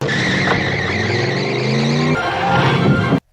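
A monster truck in an animated film drives with a loud, steady engine roar and tire noise that shifts pitch partway through, then cuts off abruptly at the end.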